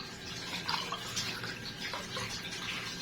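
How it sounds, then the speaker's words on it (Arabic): A cup of milk is poured into a pot for the cream filling of a kunafa tray, a brief, close, splashing liquid trickle lasting a few seconds. "هحط اول كوبايه لبن"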